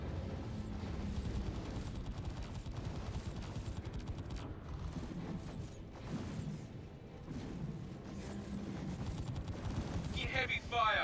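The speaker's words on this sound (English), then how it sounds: "In heavy fire." Heavy sustained gunfire rattles through a Star Citizen combat mission on the Defender ship, dense, continuous and fairly loud with rumbling mechanical undertones throughout, and a brief higher whine near the end.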